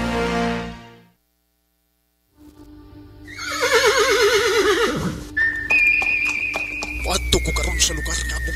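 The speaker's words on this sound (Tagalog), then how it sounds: "Sakay na ko sa kabayo." A horse neighs loudly as a radio sound effect, a long shaking whinny that falls away, followed by whistling tones and clip-clop-like knocks, with a voice briefly heard before it.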